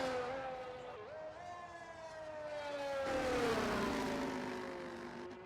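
A racing video game car pulls out onto the track, its engine a rising and falling whine that swells midway and trails off, steady and moderately loud with no talk.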